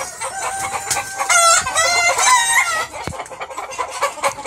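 Chickens cluck and squawk repeatedly at close range, with a rooster's crow-like call rising in the middle, all busy and fairly loud.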